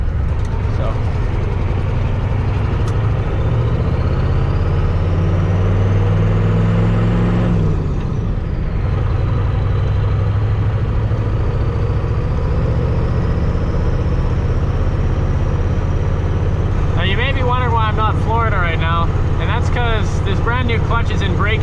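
A twin turbo diesel Ford F250 with a ZF5 manual transmission drives steadily, its low engine drone and road rumble continuous throughout, with a brief dip as a gear changes and someone talking over it.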